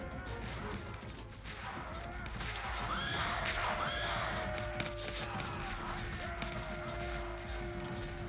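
Horses neigh and whinny in the War Selection strategy game amid a steady battle din, with thin whinnying calls rising over continuous clatter and a few sharp hits through the middle.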